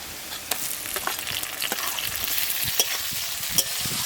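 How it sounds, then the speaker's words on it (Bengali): Chopped tomatoes tossed into deeply browned, almost blackened onions in a hot pan give a bright, steady sizzle with scattered crackles and stirring clicks, close and without talk. "এর মধ্যে এবার টমেটো কুচিগুলো দিয়ে দেবো"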